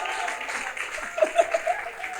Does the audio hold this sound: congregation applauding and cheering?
yes